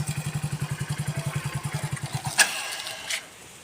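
A motorcycle idles with a rapid, even putter during a beginner riding lesson, then a sharp clack rings out and the engine note fades and cuts off, leaving quiet.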